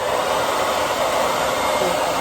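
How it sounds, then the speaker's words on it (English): Blow dryer running on its cold setting near the microphone, a loud, constant airy whoosh with a steady motor whine and no pauses or voices. "I'm going to be using the blow dryer on cold"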